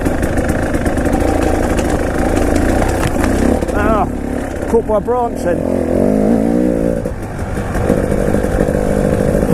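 2019 KTM 300 EXC TPI two-stroke dirt bike engine running steadily and loudly up close on a trail, with someone speaking over it.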